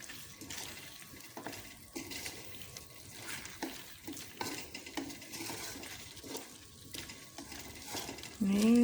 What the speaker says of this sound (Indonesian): Ini sudah saya aduk.